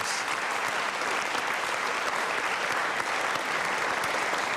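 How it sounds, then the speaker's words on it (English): A live studio audience on a televised panel discussion program gives itself a round of applause. The clapping is dense and continuous, with no break across the whole span. "Give yourselves a round of applause for being a night of great questioners"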